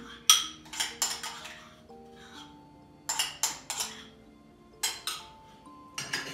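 Chocolate cake batter with sour cream stirred in a bowl, a spoon clinking and scraping against the dish in short bursts, several quick clatters, then pauses, close and fairly quiet.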